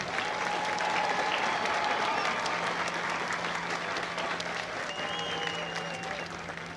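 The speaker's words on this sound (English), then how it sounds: "please join me in a round of applause for the company staff of Company B." Sustained audience applause at a Marine Corps recruit graduation ceremony at MCRD San Diego, a broad steady wash of many hands clapping that fades slightly toward the end, with no talk over it.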